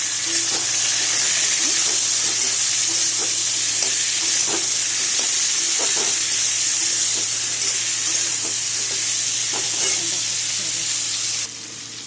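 Pumpkin pieces fry in hot oil in a pan, giving a loud steady sizzle close by, broken by repeated scraping taps of a spatula as the pumpkin is stirred.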